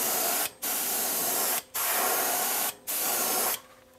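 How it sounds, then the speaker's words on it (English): Createx Wicked Black paint airbrushed onto a balsa wood bass minnow lure, a steady close hiss in four bursts separated by brief pauses, the last one softer. "I'm going to go ahead and put in the black top on this thing so that I don't have to worry about overspray onto the aluminum foil"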